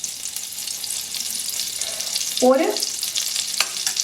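Butter melts in a hot pan as the base for an Indian-style white sauce pasta, giving a steady soft frying hiss with a brief louder sizzling burst midway, close up with faint talk.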